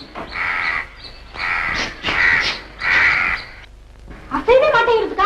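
A crow caws loudly in four drawn-out, harsh calls spaced about a second apart, heard close by, before a short burst of voiced sound at the end.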